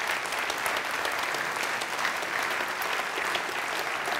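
A hall audience gives sustained, dense applause for Professor Karl Albrecht Schachtschneider, the clapping steady and even throughout.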